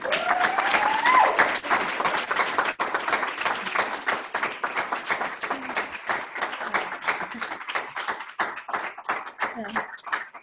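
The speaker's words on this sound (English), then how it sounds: "the live applauding is much better than virtual applauding." Live audience clapping after a dissertation talk on machine learning, sustained and fairly loud with many individual claps, while a voice talks briefly near the start.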